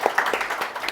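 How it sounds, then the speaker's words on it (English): A university audience claps in a short, dense burst of applause honoring a student leader, close and fairly loud, with a faint voice mixed in. "Can you clap for her, please?"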